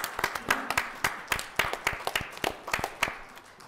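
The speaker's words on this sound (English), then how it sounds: "give them a heartfelt round of applause" Scattered hands clap in a small audience at a village meeting, a sparse, irregular patter of individual claps rather than a full roar, fairly faint and close.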